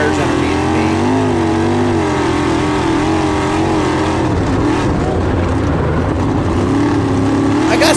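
A sprint car races around a Florida track, its engine droning loud and steady throughout, with revs rising and falling through the corners.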